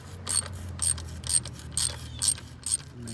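A ratchet clicks in short bursts, about six quick ratcheting strokes at an even pace, as it loosens the ignition coil bolts on a 2009 Chrysler Sebring; close and fairly quiet, with no talking.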